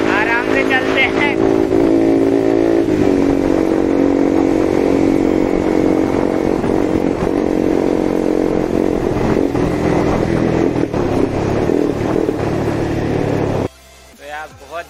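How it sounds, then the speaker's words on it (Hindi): A Yamaha MT-15 BS6 motorcycle with an aftermarket exhaust drones loudly at cruising speed with a throaty exhaust, someone talking over it, before the noise abruptly cuts off near the end. "बहुत मजा आ रही है यार बाइक चलाने में"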